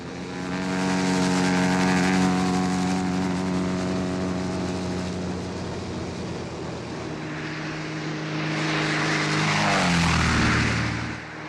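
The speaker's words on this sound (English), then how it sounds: "That's Terry's plane!" A propeller airplane passes overhead near a mining zone, its steady droning engine with strong harmonic tones building and swelling loud, then shifting pitch as it goes by.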